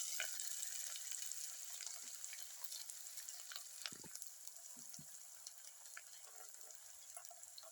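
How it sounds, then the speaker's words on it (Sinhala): Garlic, pandan, curry leaves and onion fry in hot oil, giving a steady, dense sizzle that runs throughout, with a few soft stirring knocks in the pan partway through. "සුදු ලුණු රම්පේ කරපිංචා ලුණු ඒ වගේ දේවල් ටික තෙලට දාලා හොඳට තෙලේ"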